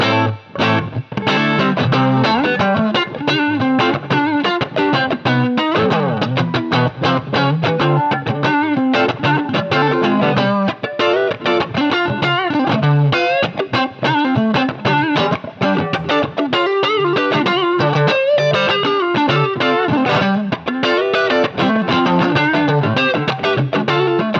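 Heavily distorted, high-gain bass amp tone from a Quilter Lab Pro Block 200 through a Frontliner 2x8 cabinet plays continuously and loud, with a gritty, fizzy edge over chugging notes.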